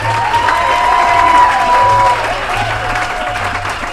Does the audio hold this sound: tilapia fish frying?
no